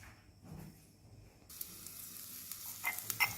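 Oil hits a hot wok, starting with a faint hiss and then rising into a brighter sizzle with a few crackling pops.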